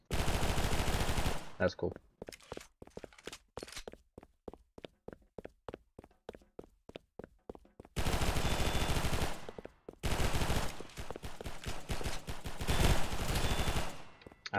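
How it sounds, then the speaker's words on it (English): Machine gun firing in a video game: long, loud sustained bursts alternate with quick rhythmic single shots or steps, and a voice speaks briefly between them. "I like machine guns."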